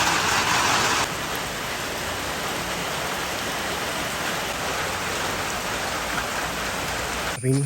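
Heavy rain pours down in a steady, dense hiss, loud and close, with a brief clatter near the end.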